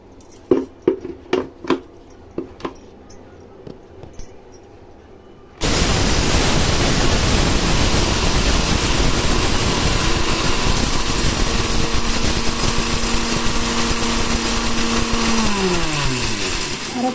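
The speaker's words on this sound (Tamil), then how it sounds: "இப்போ மிக்சியில் போட்டுக்கலாம் இதை இப்போ அரைச்சிக்கலாம்" Roasted masala spices are ground in a mixer grinder: a few soft clunks of loading, then the motor starts abruptly and roars steadily, loud and close, its pitch dropping slightly near the end.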